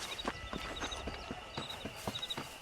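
Rapid rhythmic hoofbeats of a galloping horse in the video game Red Dead Redemption, quick and steady, with a faint electronic tone underneath.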